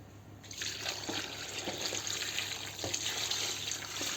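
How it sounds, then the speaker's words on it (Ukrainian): Six litres of water pour into a cooking pot for homemade plum nectar, a steady close splashing gush that stays even throughout. "Я вливаю 6 літрів води."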